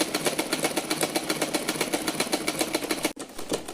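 A sewing machine stitches a fabric strip in a fast, even mechanical rattle of rapid needle strokes, close and steady, with a brief pause near the end before it resumes.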